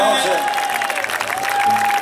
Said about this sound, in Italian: serve l'applauso di tutti qua